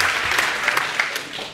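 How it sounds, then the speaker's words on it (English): An audience at a meetup applauds to welcome a speaker, a dense, steady clapping with sharper individual claps standing out, fairly loud and continuous with no voices over it. "let me welcome Andreas Osowski. With some warm applause, please."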